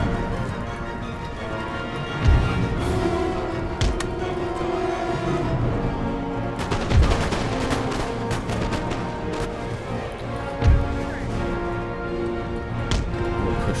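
Musket volleys in an Empire Total War battle: a dense, steady din of crackling gunfire with a few sharper, louder shots rising out of it, heard alone with no voices.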